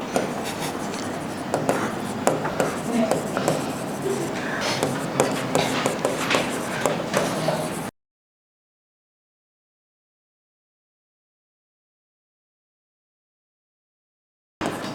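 Pen scratching across paper as an accounting entry is written out, steady close scribbling strokes for about eight seconds, then silence until a brief scrape at the very end.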